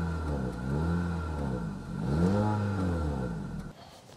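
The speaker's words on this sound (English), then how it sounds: "I don't see any real exhaust, but I know it has some, and it sounds like this." Exhaust of a 2023 Honda HR-V EX-L revving from the rear, two rising and falling engine sweeps, fairly close and clear, cutting off near the end.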